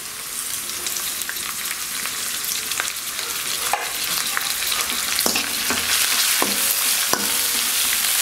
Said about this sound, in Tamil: ஓரளவு வந்து வெங்காயம் நல்லா வதங்கிடுச்சு